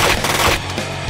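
Burst of rapid automatic gunfire from an action-movie shootout, loud and close, a dense rattling volley lasting about a second.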